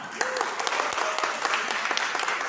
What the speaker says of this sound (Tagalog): Sabayan niyo yung palakpak na.